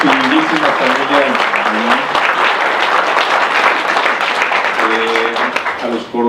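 Audience applause at a book presentation on Mexican national security, a steady broadband clapping wash lasting throughout, with a voice speaking over it near the start and again toward the end.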